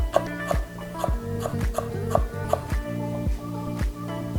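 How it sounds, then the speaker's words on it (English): A knife thinly slices ginger on a cutting board in a steady rhythm, about nine crisp, close knocks evenly spaced with no talking. "we'll just thinly slice the ginger"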